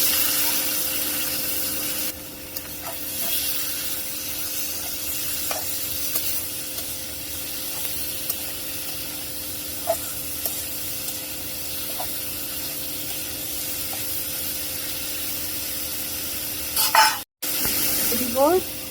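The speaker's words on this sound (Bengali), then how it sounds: "এখন করলা দিয়ে দিব।" Sliced bitter gourd goes into a pan of fried onions and sizzles steadily up close, with scattered light scrapes and taps from stirring and a brief louder clatter near the end.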